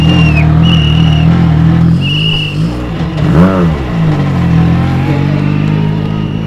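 Rally cars, including Toyotas and Hyundais, at the World Rally event in Marmaris, Turkey, drive past close by with a loud, continuous engine roar that swells and dips as one car passes.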